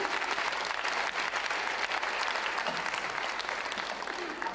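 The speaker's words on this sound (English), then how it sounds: "Let's just give them another round of applause." A church congregation applauds a school children's choir and orchestra with steady, dense, sustained clapping that fills the space evenly, with no voices over it.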